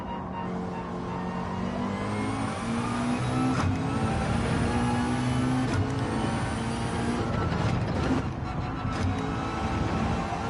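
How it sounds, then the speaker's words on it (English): A Gr.4 race car in Gran Turismo 7 roars steadily at close range, its engine pitch climbing and then dropping with a few sharp blips as it shifts down. "That was a nice little downshift."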